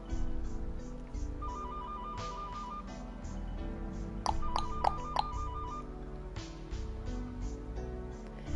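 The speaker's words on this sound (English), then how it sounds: "Pick up the payphone." A payphone rings in a video game, a couple of bursts of electronic trilling tones over a soft layered music bed, followed by a brief chime.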